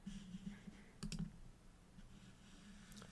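A few faint, quick computer mouse clicks in a quiet room, a short double click standing out over a low steady hum.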